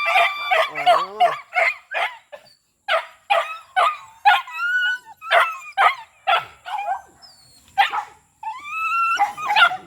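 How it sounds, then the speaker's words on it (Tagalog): Several dogs bark in quick, excited bursts close by, with yelps and whining between the barks, and a rooster crows faintly in the background. "Ang kulit yung mga aso ko"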